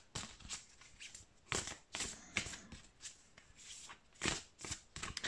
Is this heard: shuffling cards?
yes